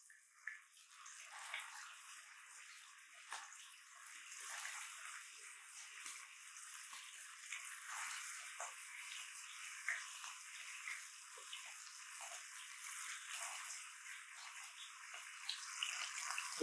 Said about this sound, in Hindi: एक पैन रख लिया, उसके अंदर ऑयल डाल दी मैंने। अभी इसको अपने कबाबों को इसके अंदर डाल देंगे।